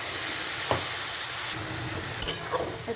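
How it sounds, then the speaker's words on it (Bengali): Masala chicken spices with ground chili and water sizzle steadily in a frying pan, with occasional spoon scrapes and clinks from stirring cutting through the continuous close hiss. "একটু নেড়ে চেড়ে নেবো"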